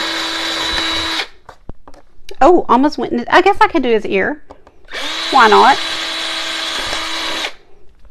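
A power drill is used during an acrylic painting project with ornaments and lights. It gives two loud whirring bursts, a short one and then a longer one, and a person speaks between them.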